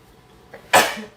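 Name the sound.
sneeze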